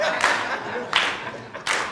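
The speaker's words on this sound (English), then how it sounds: "Keep clapping, because some people can put this" Audience hand claps land in a slow, steady rhythm along with a civil rights freedom song, three clear claps in the room with faint singing and voices behind.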